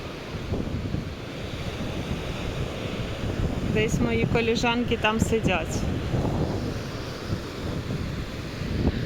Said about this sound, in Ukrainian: Оце таке сьогодні море вилазить на пів пляжа.